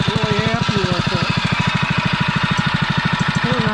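REO Trikeabout engine runs close up with its newly installed exhaust muffler, a steady rapid chugging putter with even firing pulses and a faint rattle, while someone talks briefly over it.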